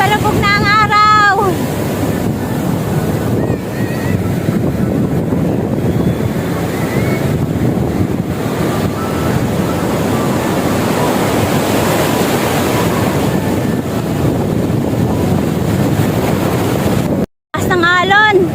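Surf on a beach at Da Nang, Vietnam, at sunset, a loud continuous wash of breaking waves heavily buffeted by wind on the microphone, with a brief voice at the very start.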